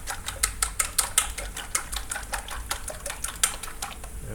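Three eggs beaten in a big bowl for a Japanese tenshindon, a fast run of light, rapid clicks and taps of utensil against the bowl, steady and close with no talking.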